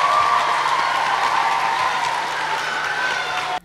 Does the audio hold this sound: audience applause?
yes